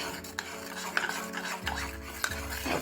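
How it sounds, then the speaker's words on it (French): A spoon stirs a homemade beauty face mask in a small bowl, with close, repeated scraping and soft clicks against the sides over a low background hum. "Donc pour mélanger, c'est très simple. Tu prends ta cuillère"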